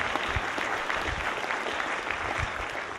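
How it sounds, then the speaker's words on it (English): Audience applause at a symposium on privacy and the NSA: a short, fairly faint, steady wash of many hands clapping in a hall. "If I could just get a round of applause for those integral people for our symposium."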